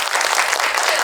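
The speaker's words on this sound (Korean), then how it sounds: "박수 한번 부탁드리겠습니다" An audience at a special talk event for a Netflix series applauds, a dense, even wash of clapping from many hands, loud and continuous.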